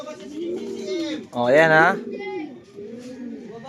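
Racing pigeons coo softly and repeatedly at close range at a loft in Tuguegarao during lap-zero clocking. A voice speaks briefly over the birds.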